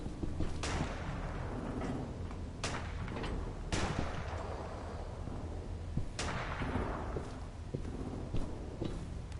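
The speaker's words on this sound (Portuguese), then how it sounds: "Ei, um barulho de tiro, hein? É tiro! É tiro!" Several sharp, loud cracks ring out at irregular intervals over a steady rumbling background, gunfire in The Walking Dead video game.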